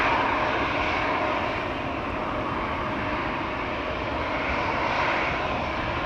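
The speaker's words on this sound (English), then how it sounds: "Embraer 175 over here, lined up, ready to go to Warsaw." At Amsterdam Schiphol Airport, airliner jet engines give a loud, steady broadband roar with no breaks, continuous and close for the whole stretch, without any talking.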